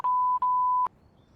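A steady electronic tone from the Sam and Max Save the World video game, two short sharp beeps, then a sustained beep that cuts off abruptly, loud and alone.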